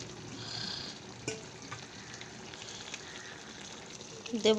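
Prawns go into a pan of bottle gourd curry, with a low steady sizzle of frying and a quiet stir, close but faint, ending with a brief louder clatter.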